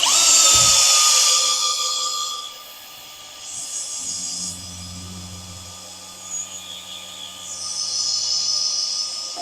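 A power drill whirs steadily in long stretches, driving a motorcycle lift, rising and easing in pitch under load, with a low mechanical hum underneath.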